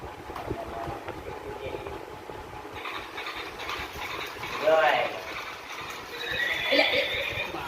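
A toy horse bought in Junagadh gives short electronic neighs, one in the middle and another near the end, heard at moderate volume over ongoing talk.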